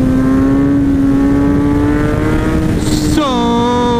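A Kawasaki ZX10R sport bike screams at high revs in fourth gear during a wheelie, a loud, steady engine note that holds close and strong, then dips briefly and climbs again with a shifting pitch.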